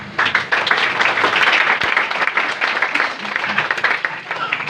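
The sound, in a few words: congregation applauding in church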